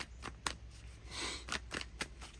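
Light Seers tarot cards being shuffled by hand, close and soft, with several quick riffling bursts and slippery card swishes over a faint background.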